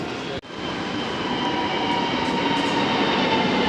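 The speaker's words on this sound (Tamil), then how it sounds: "மெட்ரோ வந்துருச்சு." A metro train pulls into a station, a sustained loud rumble with a bright whine that holds steady after a brief dip at the start, with no voices over it.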